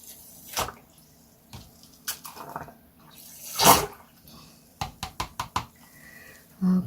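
Water sloshing and dripping as a knitted dress is washed in a tub, with scattered splashes, a louder swish in the middle and a few sharp knocks near the end, close by with no talk.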